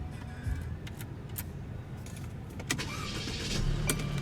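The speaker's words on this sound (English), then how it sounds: "what you're hearing there is a 2-liter turbocharged 4-cylinder" Idling 2.0-litre turbocharged four-cylinder in a 2017 Mercedes-Benz C300, a steady low engine hum heard from inside the cabin with a few faint clicks and rattles over it.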